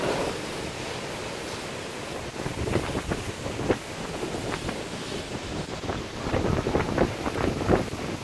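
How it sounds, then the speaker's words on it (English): Strong wind ahead of a storm with straight-line winds and hail, a rushing, gusting roar buffeting the microphone, swelling noticeably in the second half with sharp bursts. "Wow, listen to that wind whistling."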